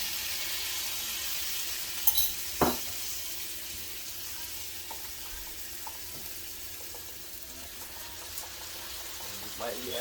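Garlic frying in a pan alongside breaded salmon, a continuous soft sizzle with a couple of brief clinks early on, steady and fairly low throughout.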